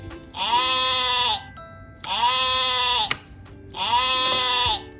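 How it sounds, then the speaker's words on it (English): A children's toy sheep gives three loud electronic bleats of about a second each, evenly spaced with short pauses between them. "It's gray. It's a gray sheep."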